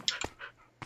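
Dogs in the video game Minecraft pant in short, close breathy bursts, several quick huffs spaced across under a second with no talk over them.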